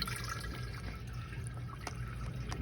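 Small solar-powered garden fountain pump running outdoors, its water splashing and trickling steadily with faint drips, quiet and continuous throughout, no voices.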